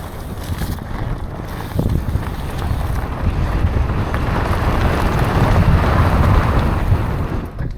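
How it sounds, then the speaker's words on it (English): Strong wind roars and buffets the microphone continuously on a mountain bike trail at a bike park, a loud, steady broadband rush that swells slightly toward the end with no voices. "that's the worst wind I've felt through there, honestly"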